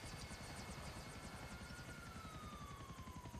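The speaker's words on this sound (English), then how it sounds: "My helicopter" A helicopter flying in the video game GTA 4, a steady rhythmic rotor chop with a whining engine tone, faint and continuous with a slowly falling pitch.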